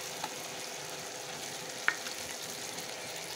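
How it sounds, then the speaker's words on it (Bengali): Ginger-garlic paste hits a hot frying pan for an apple chicken dish, giving a steady, fairly quiet sizzle throughout with a brief sharp tick partway through. "এবার দিয়ে দেবো বাটা মশলাগুলো। এখানে আছে আদা রসুন বাটা,"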